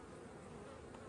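Steady dense buzzing of many bees around an open beehive, a continuous close hum with no pauses and no voices.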